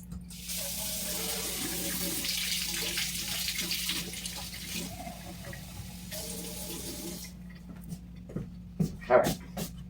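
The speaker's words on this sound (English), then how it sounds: "Let me put a little bit of warm water in here." Warm water runs steadily from a kitchen tap into a bowl for making salt dough, a continuous hiss that stops partway through, followed by a few light clatters and small noises, with a dog faintly whimpering nearby.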